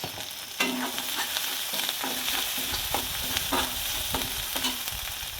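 Onions fried in a pan with oil and turmeric are stirred with a spatula, giving a steady sizzle broken by regular scraping strokes about once a second, close and fairly loud with no talk.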